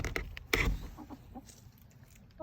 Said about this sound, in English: I hear him kind of softly clucking inside there.